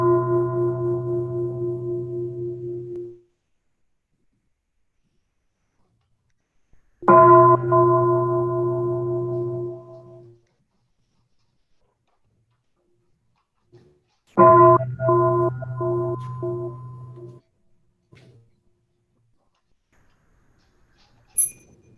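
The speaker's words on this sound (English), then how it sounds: "we'll begin with 3 bells" A meditation bell is struck three times at a monastic gathering, each strike a clear, resonant tone that rings out and decays slowly over about three seconds, with long silences between strikes.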